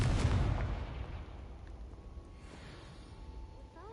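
A Confringo fire spell explodes in Hogwarts Legacy: one loud, close boom at the start that fades into a long rumbling decay, followed by faint magical tones.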